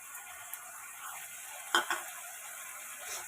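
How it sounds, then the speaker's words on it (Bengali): Ginger and chili paste fry in a pan. A faint, low sizzle continues under one sharp spatula scrape near the middle of the clip, with a few soft clicks and no voices. "আদা দিয়ে আর লঙ্কা বাটাটা দিয়ে ভালো করে একটু কষিয়ে নেব"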